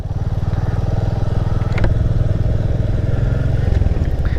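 A motorcycle rides the hill road from Kalimpong to Siliguri, its engine thrumming in a steady close pulsing rumble with a brief rise in revs partway through.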